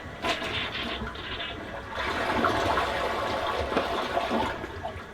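A household toilet in a bathroom flushes after its water supply is restored: a steady rushing gush of water that swells louder around the two-second mark and keeps churning and draining without a break, close and alone, with no talking.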